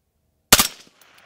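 A single rifle shot fires through a three-prong flash hider, a sharp, loud crack after a short silence that quickly decays into a brief echoing tail.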